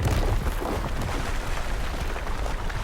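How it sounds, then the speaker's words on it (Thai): Explosion in the video game Black Mesa, heard as a dense, sustained rumbling roar of debris and blast noise that fills the whole clip at steady loudness, with no talk. "แล้วก็ระเบิดลงมา"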